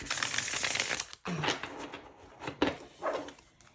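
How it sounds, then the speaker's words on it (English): A tarot deck of cat-themed cards being shuffled by hand, giving quick papery riffling bursts, a dense flurry at first and then several shorter shuffles with brief pauses, close and fairly quiet. "Let's just give it a shuffle, because I love the way this deck shuffles."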